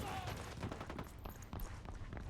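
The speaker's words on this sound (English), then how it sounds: "Opening fire." Rapid bursts of video-game gunfire crackle in a dense, sustained fusillade for a couple of seconds, loud and close, with faint voices mixed underneath.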